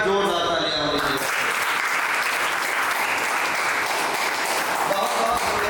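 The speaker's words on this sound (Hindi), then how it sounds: "एक बार जोरदार तालियां होनी चाहिए" A seminar audience in a hall breaks into sustained, dense clapping that stays loud and steady throughout, preceded by a brief moment of amplified voice.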